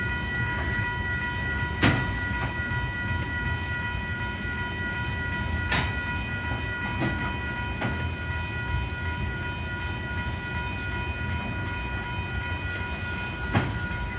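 Union Pacific 8133, an inbound manifest freight train, rolls slowly past at Lindsay Road with a steady low rumble and a few sharp wheel clanks spread across the pass, no voices.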